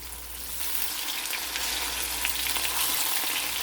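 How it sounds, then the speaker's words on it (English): Tofu frying in a pan, a steady, dense sizzle of hot oil, close and continuous with no talk. "You can either fry your tofu golden brown or a little bit more browner than this"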